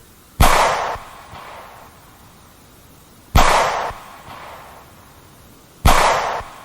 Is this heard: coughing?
no